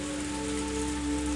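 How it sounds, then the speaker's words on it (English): Torrential rain drumming steadily on a car roof, a constant wash of patter under a quiet tonal background hum. "The only sounds to break the silence were the percussion of the rain on the roof and the soft squeak of the windshield wipers."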